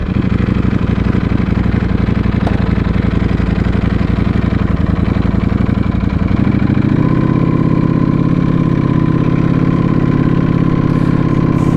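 A Ducati V4S motorcycle engine runs close and loud with a rough, pulsing idle that shifts partway through into a smoother, steadier hum with a sustained higher tone, and no talking.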